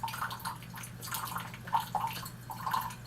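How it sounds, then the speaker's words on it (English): A Keurig K-2550 commercial coffee maker slowly feeds water into a K-cup on its strong-brew setting, giving soft, irregular dripping and trickling with faint gurgles, close by and quiet. "it's using a slower process of adding water to the cup, which would be adding water to the K-cup"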